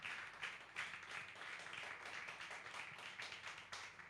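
Church congregation clapping in steady, dense rhythm during a Spanish-language sermon, quiet and continuous throughout with no talk over it.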